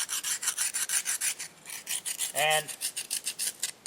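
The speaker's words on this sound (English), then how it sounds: "slate grinds up pretty good. As you can see, it's starting already." A blade is ground against a piece of slate outdoors in a forest, producing rhythmic back-and-forth rasping strokes, close and fairly loud, about four per second.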